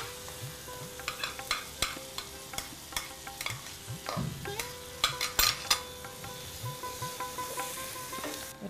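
Spinach cooking in a pan with salt and sugar for palong shaak ghonto, sizzling steadily under frequent rhythmic stirring scrapes and clinks, close and fairly quiet.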